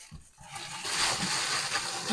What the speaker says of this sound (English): Give it a bath. Cold water, not hot water.